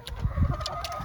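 Blue Wyandotte hens cluck in short, low bursts close by, with a few higher bird calls scattered through the brief moment.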